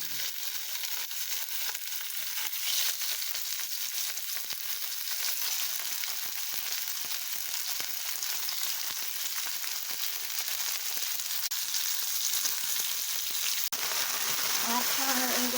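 Meat sizzles steadily in a small amount of very hot oil on a griddle, cooked a la plancha. The frying runs as a soft, continuous hiss for the whole stretch, and a faint voice comes in near the end.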